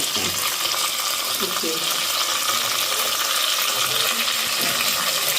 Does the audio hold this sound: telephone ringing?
no